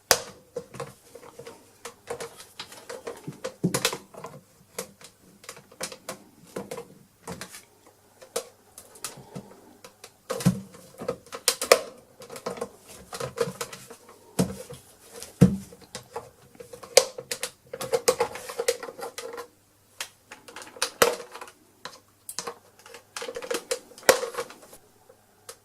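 Plastic clips on a Dyson V6 DC59 cordless vacuum cleaner snap loose one after another, giving sparse, sharp clicks and small handling rattles up close against a quiet background.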